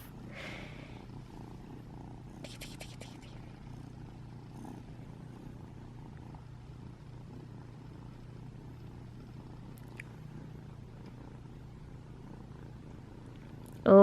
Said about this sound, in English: You purring like a little cutie